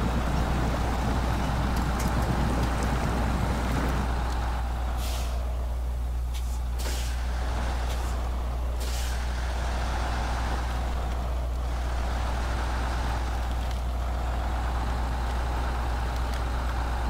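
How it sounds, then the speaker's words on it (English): A heavy truck grinds through swamp mud in the SnowRunner game, its engine giving a constant deep low rumble. Loud noisy churning comes first, then fades into hissing bursts and a smoother drone. "Man, this truck goes through the swamp really good"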